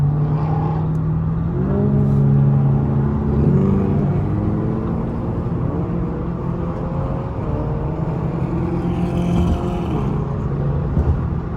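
A car drives along twisty roads with the windows down, giving a loud, continuous engine and wind roar heard from inside the cabin, with the engine note rising and falling as the driver works through the bends.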